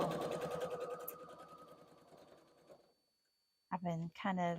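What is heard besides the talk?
sewing machine stitching quilt seam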